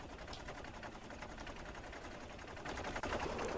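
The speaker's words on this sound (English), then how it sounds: "I'll take these out with machine guns." Continuous machine gun fire taking out enemies in the video game Factorio, a constant, dense crackling stream of rapid shots that swells slightly near the end, with no talk.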